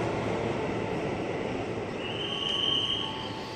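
A 10-car electric commuter train (KRL) rumbles steadily past close by without stopping, with a thin high metallic squeal rising over the noise partway through.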